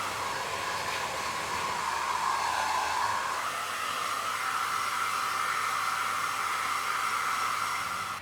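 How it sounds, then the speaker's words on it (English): A hair dryer blows steadily at close range while a dog's ears are dried, a continuous whooshing hiss that shifts slightly in pitch partway through as the nozzle moves. "she really enjoys getting her ears blow dried"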